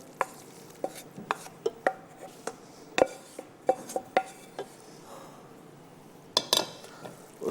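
Shredded chicken is stirred and mixed in a pot, producing a string of sharp metallic clinks and taps from a spoon against the pot, irregular and fairly faint, with brief quiet gaps and a cluster of knocks near the end.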